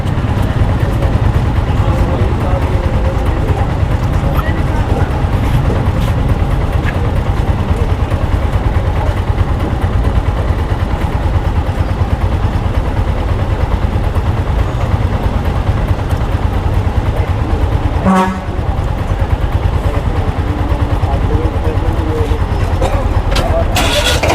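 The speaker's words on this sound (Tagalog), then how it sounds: "Traffic guys." Busy street traffic with a steady, loud wash of car and motorcycle engines running throughout, plus one brief horn-like blare late in the clip, with voices mixed into the din.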